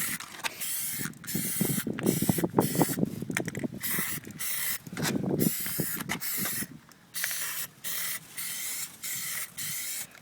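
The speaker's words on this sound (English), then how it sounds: "Having a fresh can each time really helps because you can actually spray more at angles." A fresh can of Plasti Dip sprays onto a 2012 Cadillac Escalade ESV in repeated hissing bursts of varying length, broken by short pauses, fairly close.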